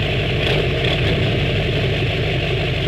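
Pickup truck engine idling up close, meant for hunting trips and pulling trailers: a steady, loud, even rumble with a continuous low throb and no revving, heard alone without any talk.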